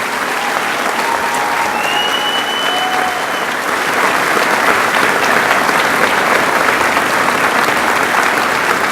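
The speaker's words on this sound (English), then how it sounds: "A nice round of applause for our Valedictorian Salutatorian." Large high school graduation crowd applauding the valedictorian and salutatorian, a loud continuous wash of clapping that swells partway through, with a few faint voices and whoops inside it.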